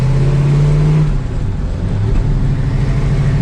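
A Dodge Challenger R/T accelerates through a quick lap, its engine note rising and wavering as the throttle is fed in, loud and close throughout.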